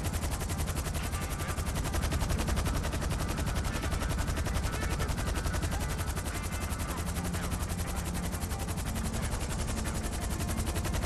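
Vehicle-mounted guns in GTA V firing sustained rapid automatic bursts for the full stretch, a steady loud rattling stream with no breaks.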